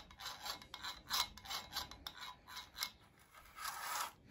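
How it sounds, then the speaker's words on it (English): A fly-by-wire motorized throttle body with a butterfly valve, from a Jeep Patriot, has its small electric motor and gears spinning, a faint rasping whir in quick repeated bursts, close up with no talk. "you can hear the motor, the gears in the motor spinning"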